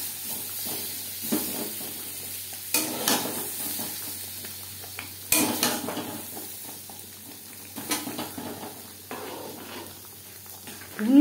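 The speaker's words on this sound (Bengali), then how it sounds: "ঘুগনির সাথে আলু বেশ ভালো করে মিক্সড করে দেব।" A spoon stirs fried potatoes into yellow pea ghugni cooked with mutton fat, with soft scraping and clinking against the pot over a light sizzle, in uneven strokes, plus a couple of sharper knocks.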